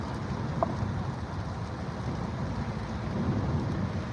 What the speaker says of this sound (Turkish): Havada bugün yağmurlu